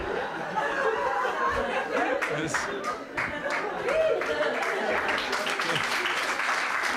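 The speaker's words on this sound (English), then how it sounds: "Very timid, unnatural applause break," At a stand-up comedy show, a timid, scattered round of applause rises from the audience, with chuckles and light laughter mixed in and some voices talking over the clapping throughout.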